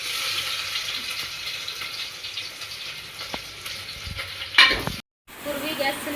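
Onion and garlic frying in a pan make a steady, close hiss of sizzling oil, broken near the end by a brief louder scrape and a momentary gap before the frying resumes.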